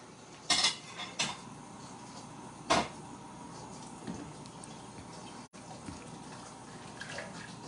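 Dishwashing at a kitchen sink in Canada: cutlery and pots clatter in a few sharp bursts over a steady background hiss of running water, with quieter clinks in between and no talking.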